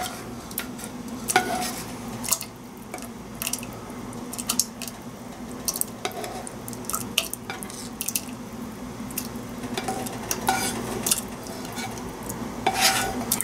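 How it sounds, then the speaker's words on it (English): Tadka tipped into a pot of dal and stirred, with repeated clinks and scrapes of a utensil against the pot over a faint sizzle and bubbling liquid, no talking. "whatever we have cooked on the side, tadka, we are going to add that in this one"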